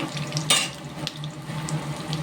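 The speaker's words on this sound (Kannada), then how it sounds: "ಮೆಣಸಿನಕಾಯಿ, ಕಡಲೆ ಬೀಜ ಹಾಕಿದ್ದೀನಿ. ಸಿಮ್ಮಲ್ಲೇ ಚೆನ್ನಾಗಿ ಫ್ರೈ ಮಾಡ್ಕೊಳ್ಳೋಣ." Chillies and peanuts fry on low heat in a pan with a steady, soft hiss and crackle. One brighter clatter comes near half a second, and no one talks.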